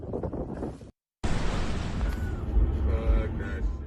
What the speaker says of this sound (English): It was a massive explosion.